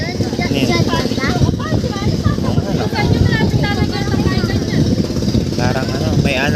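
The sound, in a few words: engine running, likely a boat motor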